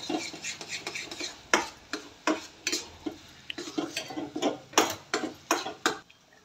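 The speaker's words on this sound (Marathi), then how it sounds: "चांगलं आळून येईपर्यंत असं हलवायचं" A spoon stirs a sweet potato and jaggery puran filling in a pan, giving a steady run of close scraping and clinking strokes against the metal with a faint sizzle beneath.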